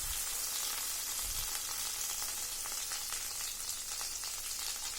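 Balls of butter melt in a kadai heated over a low flame to make ghee, giving a soft, continuous sizzle and crackle, faint and even throughout with no talk.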